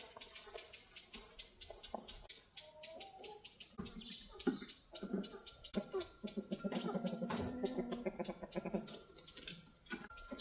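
Chickens clucking and cheeping softly in a backyard coop, a faint scattered chorus of short calls with small bird chirps and light rustling.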